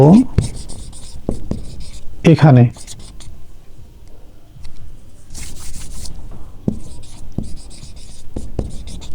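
Marker or chalk scratching across a board during a Bengali calculus differentiation lesson, in short irregular strokes, with a brief burst of a voice near the start.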